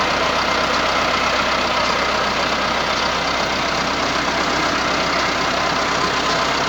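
Massey Ferguson 385 tractor engine drives a water bore pump, a loud, steady, unbroken mechanical drone held at one pitch throughout.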